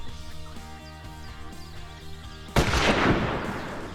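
A single loud rifle shot fired at a wild boar while hunting in the desert, breaking sharply through steady tonal background hum and ringing out with a decaying echo.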